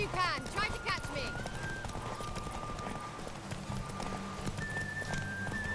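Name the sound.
horse galloping in The Witcher 3 video game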